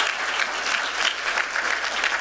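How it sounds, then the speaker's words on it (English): An audience at a Black in Design conference session gives a steady round of applause for the day's four panels, dense and even throughout, with no voices above it. "can we get a round of applause for all four of our panels today?"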